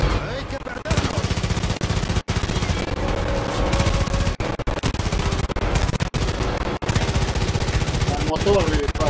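Gunfire in the Far Cry 5 video game, loud rapid automatic bursts that run almost continuously with a few brief pauses.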